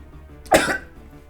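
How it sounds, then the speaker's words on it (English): A single short cough from a person, fairly close and moderately loud, standing alone against a quiet background with no talking. "coughs a little bit"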